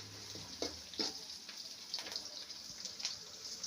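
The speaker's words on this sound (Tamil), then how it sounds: "கொஞ்சம் வதங்கணும். கொஞ்சம் பொன்னிறமாக வரட்டும் வெங்காயம்." Onions sautéing in a pan for a fish kuzhambu, a soft steady sizzle and fry with faint scattered crackles and occasional stirring taps, quiet and close with no voices.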